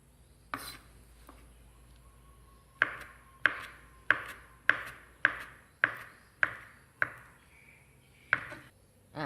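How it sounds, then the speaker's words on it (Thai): A knife chops banana into cubes on a cutting board, a steady run of about nine sharp taps at an even pace, close and clear with no talking. "แต่แล้วเราก็นำกล้วยมาหั่นเป็นลูกเต๋าค่ะ"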